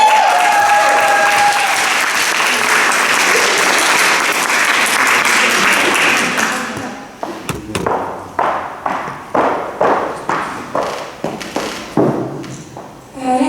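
A school audience applauds at a teachers' day event, dense sustained clapping for several seconds that thins into scattered, separate claps and thumps near the end.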